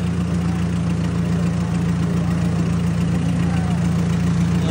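A tractor engine runs steadily at a farm waterside spot in Shahabad Markanda, its low droning rumble constant and fairly loud throughout, with faint rushing water in the background.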